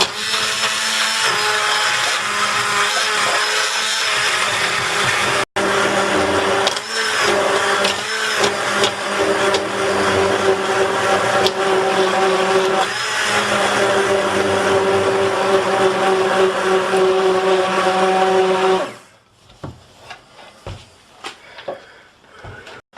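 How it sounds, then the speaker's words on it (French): A blender purées cooked squash soup, a loud steady whirring grind running for nearly twenty seconds before cutting off, followed by a few faint clinks and knocks. "mixer tout ça."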